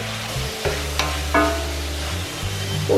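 Chopped tomatoes, two medium ones, frying with onions in a pan, a steady close sizzle with occasional stirring scrapes and clinks, no voices.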